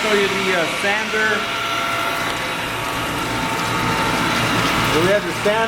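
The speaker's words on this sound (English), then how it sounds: "So we have the sander on here." Reichmann wet ski tuning machine with its belt sander running, a steady loud mechanical whir and grinding drone with ratchety texture that holds throughout, with no pauses.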